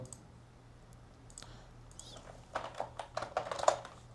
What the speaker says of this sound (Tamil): இந்த கமெண்டை டைப் பண்ணிக்கிறேன்